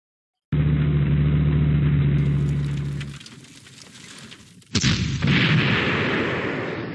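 An anti-tank gun fires in the World War II strategy game Panzer Corps, a loud, deep boom rumbling for a few seconds before fading, then a second sharp blast with a rumbling tail.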